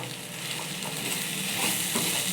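Brinjal frying in oil for chutney, a steady close hiss and sizzle in the pan, continuous and fairly loud with no voices.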